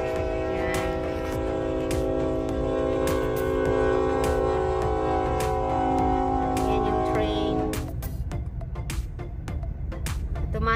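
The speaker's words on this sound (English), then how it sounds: "The coal train." A long coal train rolls steadily past nearby with a sustained droning, tonal rumble, then clattering rhythmic clicks of wheels on rail joints as it continues.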